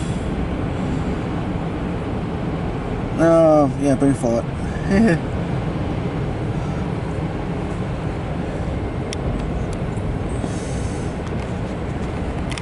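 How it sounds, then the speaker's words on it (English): A CSX Q249-20 autorack freight train rolling past, a steady broadband rumble and rattle running throughout, with someone talking briefly over it. "Decent sized train."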